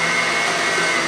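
A blender whirs continuously at high speed with a loud, broad grinding hiss and a steady whine, running without a break as chunks are added.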